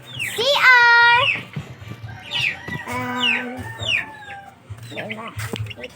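Chickens cluck and squawk close by on a farm, sending out several rising, strained calls in quick bursts, with softer clucks in between and a voice nearby.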